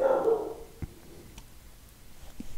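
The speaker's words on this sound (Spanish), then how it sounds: "Qué chido que toda la tarde no ladre el perro, pero sí lo haga cuando empiezo a grabar" A dog barks a few times indoors, in short, fairly faint yelps with quiet gaps between them.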